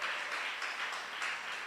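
Brief, soft applause from a church congregation during a sermon, a steady wash of clapping that sounds somewhat distant.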